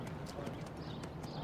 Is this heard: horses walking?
yes